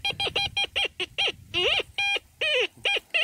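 A metal detector gives a run of short electronic warbling beeps and chirps signaling iron, steady and rhythmic, close and fairly loud with no talking, in an old garden.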